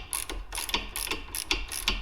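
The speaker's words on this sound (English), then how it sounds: "use channel locks or a wrench or something on the back side here to keep it from spinning as you twist this nut off" A wrench ratchets in quick bursts while loosening a nut on the front shock of a 2003-2008 first-generation Honda Pilot, a series of close metallic clicking runs separated by short pauses.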